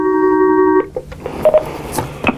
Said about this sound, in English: I think we got a phone call coming in.